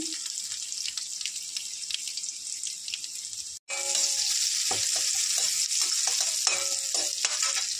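Sliced onion, dried red chili and panch phoron five-spice seeds sizzle steadily in hot oil in a pan, a loud continuous frying hiss with occasional stirring scrapes and small pops, close up and without talk.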